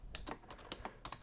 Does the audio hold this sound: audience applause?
no